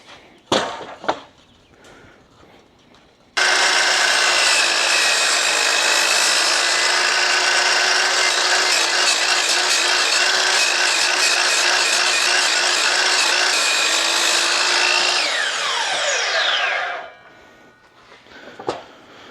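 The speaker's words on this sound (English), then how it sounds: "I'm going to hog out enough material here for that upright lap joint to fit right in the middle of that." A power tool grinding and hogging wood out of a 4x4 for a lap joint, a loud continuous abrasive whine lasting about fourteen seconds, with brief knocks and handling sounds before and after.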